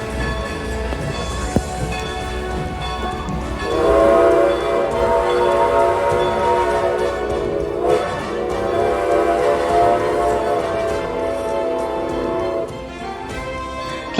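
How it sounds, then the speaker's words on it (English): New Hope Railroad steam locomotive No. 40 sounds long whistle blasts over the steady chuff of stack exhaust and train rumble, with the whistle swelling in sustained tones partway through. "There will be lots of whistle action and hard-working stack talk throughout the trip"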